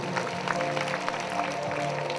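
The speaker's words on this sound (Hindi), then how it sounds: "जोरदार ताली बजाइए परमेश्वर" Applause from the congregation at a prayer meeting, a steady patter of many hands clapping together, fairly loud and continuous throughout the short moment.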